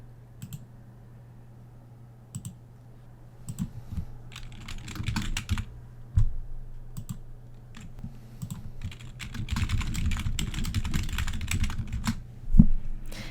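Keys clatter on a computer keyboard in irregular bursts of fast typing, with short pauses, close and fairly quiet over a low steady hum. Nobody speaks.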